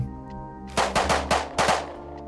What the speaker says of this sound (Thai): มันยิงใครอยู่อ่ะ